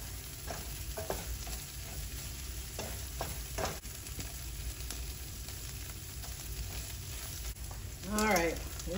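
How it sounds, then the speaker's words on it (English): Chorizo and onions cook in a pan with a continuous close sizzle, punctuated by intermittent spatula stirs and scrapes, and a short burst of voice near the end. "We're going to continue to let our chorizo cook up with our onions."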